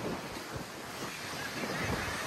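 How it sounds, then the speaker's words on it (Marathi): Ocean waves breaking on a beach in Goa, a steady broadband wash of surf with soft rolling swells and some wind rumble, fairly close and continuous throughout. "लाट येईल मोठी ओली."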